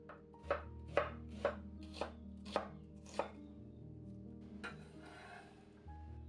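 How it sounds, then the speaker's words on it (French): Half an onion sliced with a knife on a board: six or seven crisp, evenly spaced chops close up, followed by a quieter scrape, over a soft background hum. "Émincez un demi-oignon"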